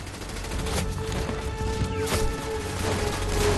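German machine guns fire in a dense, continuous fusillade of overlapping bursts, fairly faint and distant beneath a rumbling background.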